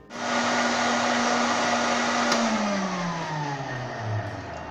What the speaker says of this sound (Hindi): चलिए दोस्तों इसे ग्राइंडर के अंदर ब्लेंड करते हैं।